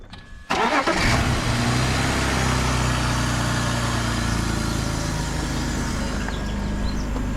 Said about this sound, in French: Bon les gars, démarrage, voir si on a bien bossé.